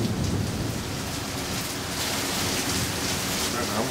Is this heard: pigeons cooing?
no